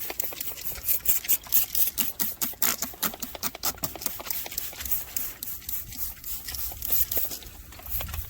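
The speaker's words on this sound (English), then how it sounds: "We're gonna spritz them again." Quick hissing spritzes of apple cider from a spray bottle onto smoked ribs over a charcoal smoker, a dense run of short bursts close by, with no talk.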